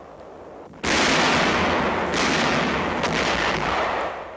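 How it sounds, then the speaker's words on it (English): Heavy artillery or gunfire aimed at enemy barges on the Rhine near Dusseldorf, a sudden loud blast followed by further booming reports and rumbling echoes, with no voices over it. "Firing on enemy barges in the Rhine before Dusseldorf."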